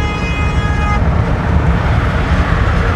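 Steady roar of road traffic on a busy road near Aburi Mountain outside Accra, Ghana, with cars passing close by and a brief horn-like tone in the first second, continuous and fairly loud throughout.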